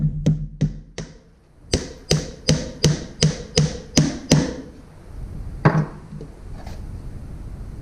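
Hammer blows strike a nail into a wooden tool box, about a dozen sharp taps in quick groups, steady and close, then a pause and one final louder knock followed by faint room noise.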